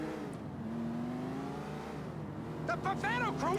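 Car engine accelerating in GTA IV, a steady revving drone with rising pitch sweeps near the end, while someone talks over it.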